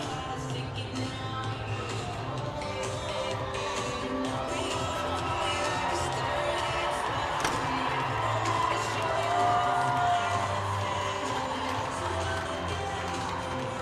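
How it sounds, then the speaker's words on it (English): A crowd cheers steadily in an ice hockey arena as a new goalie, Martin, comes on for the third period of the Johnny Wookey Memorial Game. The roar holds throughout, with scattered shouts, whoops and claps rising and falling. "Big cheer for the new goalie, Martin"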